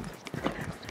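Horse hooves at a gallop during a riding lesson, a quick uneven series of muffled thuds close by, with soft ambient noise and no talk over them.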